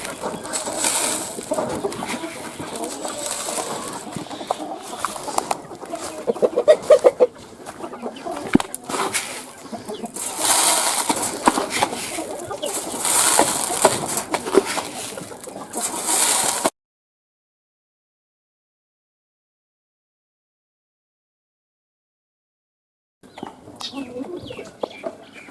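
Village chickens cluck and call in a farmyard, busy overlapping fowl sounds at moderate distance for most of the time, then a long silence before a brief return.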